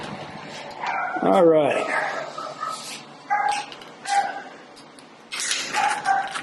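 Several dogs at an animal rescue bark and yip in short bursts, with a whimpering whine early on, fairly close and intermittent, while someone speaks briefly between barks.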